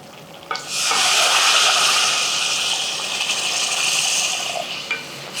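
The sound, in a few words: pouring hot water into fish curry pan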